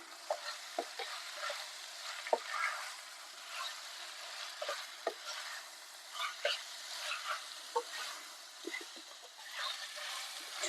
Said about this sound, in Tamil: சேர்த்து இந்த இஞ்சி பூண்டோடைய பச்சை வாசனை போகிற வரைக்கும் ஒரு 2 நிமிஷம் வதக்கி விட்டுக்கோங்க.